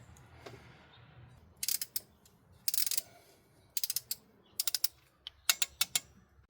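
A hand ratchet clicks in short bursts while bolts are torqued on a Hummer H3 engine during a timing chain and water pump job, several quick rattling strokes separated by pauses, close and fairly loud against a quiet background.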